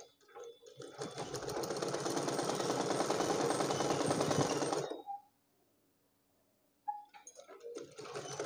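A sewing machine runs steadily for about five seconds while stitching a blouse, a close, continuous mechanical whir, then stops; after a pause of quiet it starts up again briefly.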